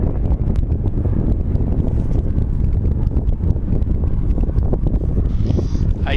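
Strong wind gusts buffet and roar across an open outdoor area on a windy day where a small paraglider wing is being flown, steady and close throughout with constant rumbling buffeting and no one speaking.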